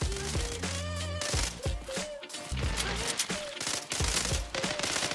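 A gun fires in the Zula Mobile video game, rapid automatic bursts of loud close shots in quick succession with brief pauses between volleys and game effects layered over them.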